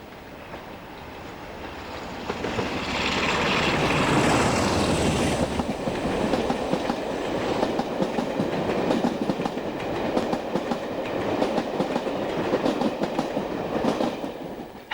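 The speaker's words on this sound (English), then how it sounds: "Heading for Exeter and Bristol is the classic Crompton." A classic Crompton diesel locomotive hauls a British Rail train toward Exeter and Bristol, a rising engine rumble followed by a steady clickety-clack of wagons rolling past close by for several seconds, with no talking.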